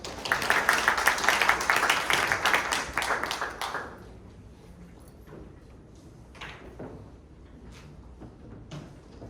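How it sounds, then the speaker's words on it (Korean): Audience applause at a construction policy forum starts loud and dense for about four seconds, then drops off abruptly, leaving quiet room tone and a few scattered claps and small noises. "박수로 맞이해 주시기 바랍니다."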